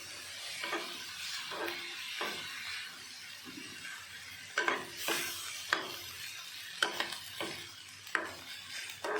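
A spoon stirs sweetcorn with fresh cream and tomato ketchup in a pan, making repeated close scraping strokes over a light sizzle, with several louder clacks in the second half.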